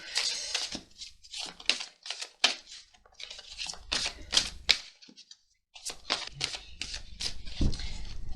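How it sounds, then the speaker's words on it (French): Tarot cards shuffled by hand before a reading: a long run of crisp riffling and slapping sounds, close and fairly quiet, with one brief pause partway through. "Je mélange un petit peu"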